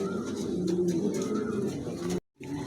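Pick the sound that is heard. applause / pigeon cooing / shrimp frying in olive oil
pigeon cooing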